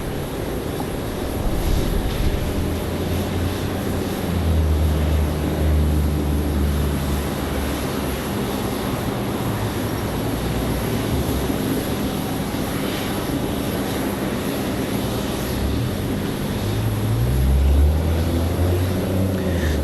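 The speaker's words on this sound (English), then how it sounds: "So this A321 coming in from Charlotte, 24 minutes of flight time." An Airbus A321 arriving from Charlotte at Raleigh Durham International Airport gives off a steady, loud jet engine roar that continues throughout, with a low rumble swelling near the end.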